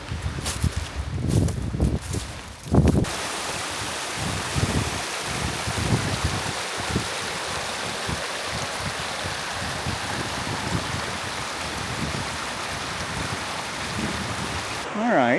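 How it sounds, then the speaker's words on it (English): Naked Creek flows through woods in Shenandoah National Park, a close, continuous rushing of water heard alongside footsteps and rustling at the start, then a steady wash. "I found Naked Creek. Now I just follow this down to the waterfall"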